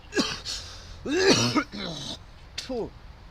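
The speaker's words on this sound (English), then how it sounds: "This fucking vape is making me choke, man." Several harsh coughs and throat clearing from choking on a vape come in quick bursts, close by, with hoarse voiced sounds between them.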